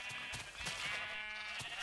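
A sheep in Minecraft bleats in short nasal bursts, quiet and close, with no talk over it.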